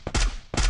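Gunfire in the Free Fire video game: two loud, sharp bursts of shots, close and punchy, separated by a brief gap.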